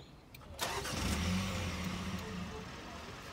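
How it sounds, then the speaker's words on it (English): A car with a ring accelerator is switched on: a short click, then the engine starting and settling into a low, steady idle, close by and fairly quiet. "So I'll just turn the car on so you can see what's happening."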